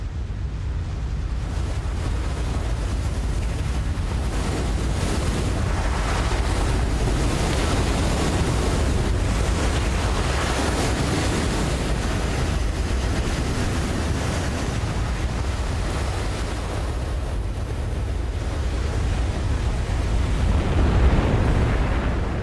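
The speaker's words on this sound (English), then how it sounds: "Just as he surfaces, another giant breaker comes crashing in." Giant ocean breakers crash continuously, a loud roaring wash of surf and churning white water with wind buffeting throughout, swelling slightly near the end.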